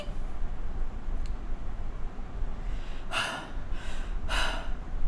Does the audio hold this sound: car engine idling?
no